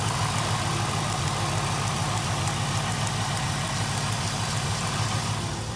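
A drift car idles steadily close by, its engine a constant rumble, with a faint fast electrical ticking repeating above it. There are no voices.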